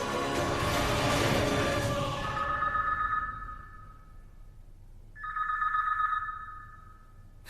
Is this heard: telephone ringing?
yes